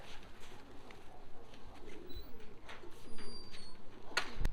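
Racing pigeons in a loft coo softly and repeatedly against a low background hum. Scattered wing flutters and faint chirps break in now and then, with a sharp clack near the end.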